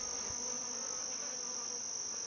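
Honeybees hum in a steady, even drone while building comb inside a hive, close and continuous with no voices.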